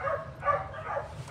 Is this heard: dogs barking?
yes